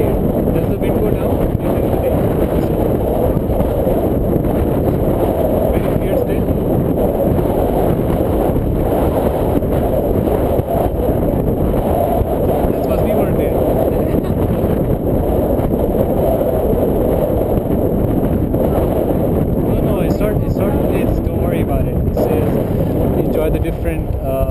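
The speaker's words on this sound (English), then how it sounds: "But this is too strong. Wind has to die down slightly." Strong gusting wind at a paragliding site on Jebel Fayah roars steadily and loudly across the microphone, a dense unbroken rush from start to finish.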